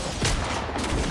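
Burst of video game gunfire in Fortnite ranked play, a dense crackle of shots running through the short stretch with a louder hit near the start.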